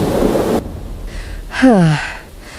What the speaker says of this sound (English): Now nobody will come in this rain.